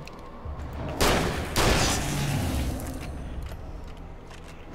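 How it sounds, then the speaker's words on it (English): Shotgun fire in the Alan Wake video game, two loud blasts about half a second apart, each ringing out and then trailing into a low rumble of game ambience. "Shotgun."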